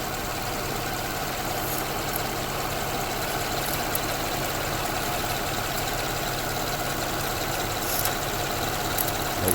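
A 2004 to 2006 Lexus ES330 engine idles steadily on a flat surface, a smooth continuous hum with faint mechanical ticking and no voices, holding an even level throughout.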